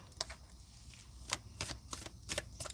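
Tarot cards shuffled by hand in quick bursts of papery riffles and slaps, close and fairly soft, with no talking.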